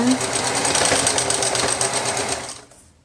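Sewing machine stitching a turned hem on a soft T-shirt fabric, a close, fast rhythmic whirring clatter that runs steadily for about two and a half seconds, then winds down.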